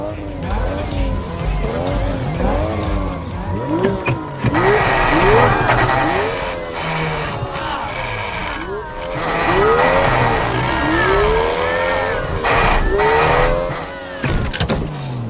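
Street race cars from the 2015 film Super Fast revving and pulling away at the start of a race, engines rising and falling in pitch with tire noise, loud and close, with voices and a film soundtrack mixed in.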